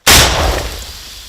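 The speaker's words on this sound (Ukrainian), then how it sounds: "Давай вогонь! Постріл!" A single sharp, loud blast from an anti-tank grenade launcher firing in combat, with a sudden onset, followed by a rumbling decay that fades over about a second.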